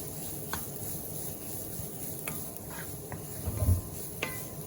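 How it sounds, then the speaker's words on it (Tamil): Chopped beetroot being stirred in a pan gives a steady low sizzle with faint scraping strokes of a spoon at irregular intervals, one slightly louder scrape near the end, and no talking. "இப்போ எல்லாம் சேர்கிற மாதிரி வடிவாக கிளறி விடுவோம்."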